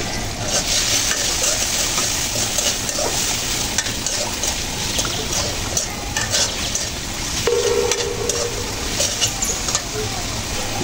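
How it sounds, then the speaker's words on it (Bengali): Spices with sliced green chillies and salt frying and being stirred in a pan for a small-fish curry with okra and potato, a steady dense sizzle with scraping stirs throughout, with a voice talking over it. "মশলাগুলো হালকা ব্রাউন কালার করে কষে নিলাম"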